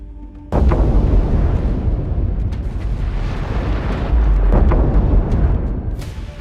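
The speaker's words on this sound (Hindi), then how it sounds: "टैंकर के बीच वाले हिस्से में बड़ा ब्लास्ट होता है" A Russian tanker exploding at sea: a sudden heavy boom bursts in, then a sustained roaring rumble with deep low-end surges and a second swell of force, loud and close, without speech.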